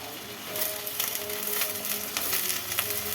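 Eggplant pieces fry with onions in a pan for a tamarind curry, giving a soft, quiet sizzle broken by light scraping stirs.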